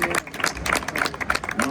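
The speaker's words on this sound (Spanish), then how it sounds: "un aplauso por favor." Audience applauding at a FITUR 2026 tourism fair presentation, a short burst of many hands clapping, dense and close, fading slightly toward the end.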